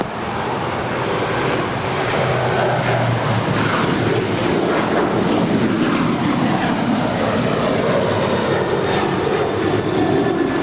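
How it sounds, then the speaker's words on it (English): An eight-year-old United Airlines Boeing 737-900ER roars loudly and steadily as it takes off from LAX, its jet engines producing a broad, sustained rumble with no voices over it. "That is United Airlines Flight 1069 departing to Chicago. It's an 8-year-old 737-900 ER."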